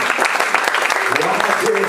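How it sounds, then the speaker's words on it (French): A church congregation at an evangelical service claps steadily throughout, a dense continuous applause with voices mixed in beneath it. "Reçois l'acclamation de ton peuple qui t'acclame ce matin"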